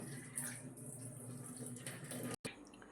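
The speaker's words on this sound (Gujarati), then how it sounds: "પાણી નીતારી દો." Water draining off freshly washed grated potatoes in a home kitchen, a steady faint trickle and splash running continuously, briefly cut off near the end.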